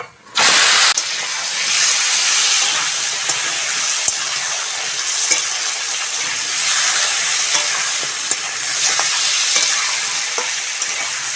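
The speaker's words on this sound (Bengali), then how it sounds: "আলু আর পটলটা ভালো করে ভেজে নেব" Potatoes and pointed gourd frying in oil tempered with five-spice, a loud, close, broad hissing sizzle that bursts in suddenly and holds steady throughout, with faint occasional stirring clicks.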